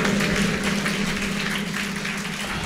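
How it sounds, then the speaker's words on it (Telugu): A church congregation claps loudly and continuously during a Sunday service, a dense, even wash of hand claps filling the room from start to finish. "చప్పట్లు కొడతాం"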